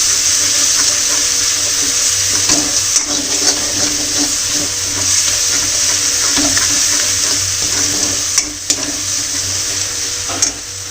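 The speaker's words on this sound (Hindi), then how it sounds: "तेती में मैं पानी डाल दिया हूँ और साथ में मैगी और डाल देता हूँ" Water hisses and sizzles in a hot pan over frying masala while Maggi noodles are being cooked, a steady close bubbling with occasional clinks of a utensil.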